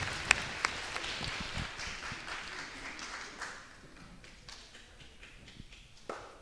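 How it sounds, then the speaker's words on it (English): Applause from a small audience at an elementary school Moon Tree celebration, starting with a couple of sharp claps, then scattered clapping that thins and fades to isolated claps, fairly faint. "So let's give Amy Van Doren a round of applause"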